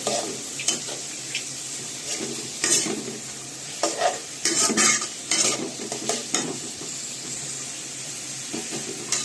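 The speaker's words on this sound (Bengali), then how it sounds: "পেঁয়াজগুলো একটু ভাজা মোটামুটি হয়েছে" Onions fry in a pan with a constant sizzle, punctuated by repeated scraping stirs of a spatula, close and fairly loud.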